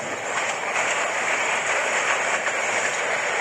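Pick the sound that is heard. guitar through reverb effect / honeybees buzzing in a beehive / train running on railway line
train running on railway line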